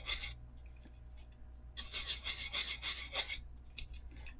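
A pen nib scratches across paper while making line drawings, with soft bursts of scratching that grow into a denser, rhythmic run of short strokes in the second half over a quiet low hum.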